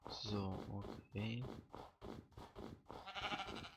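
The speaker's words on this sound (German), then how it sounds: "Da sind auch schon mal Schafe." Sheep bleat in Minecraft, two clear wavering calls close by followed by busy game sounds and movement, with no talking over them.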